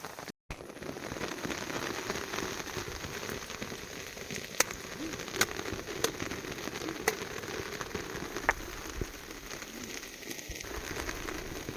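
Steady rain falling on forest leaves and surfaces, an even hiss with scattered louder drips, continuous and fairly soft, no one speaking.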